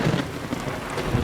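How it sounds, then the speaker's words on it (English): Rain falling with a low rumble of thunder in the game Vintage Story, a brief dense hiss of rainfall over a soft deep roll, steady and moderately loud. "It's been raining here for a while."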